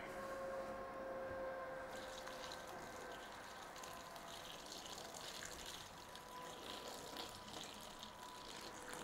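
Steady rushing hot water runs continuously, like a tap filling a sink, while items are washed with soap, with a faint tonal whine at the start and no voices.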